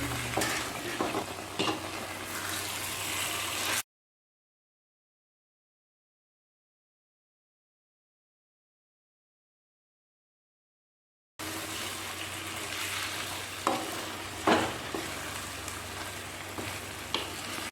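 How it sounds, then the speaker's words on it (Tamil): Semolina (rava) stirred in ghee for kesari, a soft, steady sizzle with scraping strokes of a spoon in the pan, heard in two stretches separated by several seconds of complete silence. "இப்பொழுது நெய் ஊற்றி கிளற வேண்டும்."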